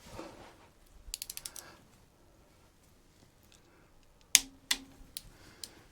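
A ratchet clicks in short bursts while tightening bolts into aluminium on a Vauxhall engine rebuild, followed by a few sharp metallic clanks, close and fairly quiet, with no talking.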